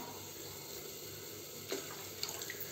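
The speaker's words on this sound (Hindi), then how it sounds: "पानी मिला दें।" Water pours steadily into a cooking pot of fried daal gosht masala, about five glasses for rice, as a continuous rushing splash with a couple of brief clinks near the end.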